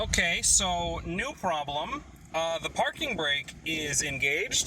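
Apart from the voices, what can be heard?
No distinct noise like a dog, phone or traffic.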